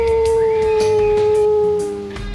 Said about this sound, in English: he howled back.